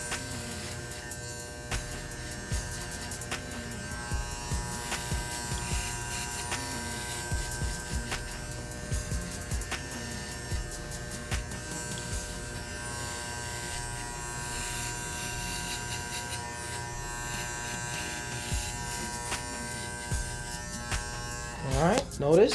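Electric hair clippers set to zero trim the bottom of a high skin fade, buzzing steadily and close throughout with small shifts as the blade moves over the head, while someone talks over it.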